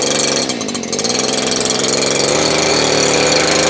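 A Stihl KM94R two-stroke engine idles while warming up, a steady close buzzing putter with an even rapid firing rhythm and no throttle changes.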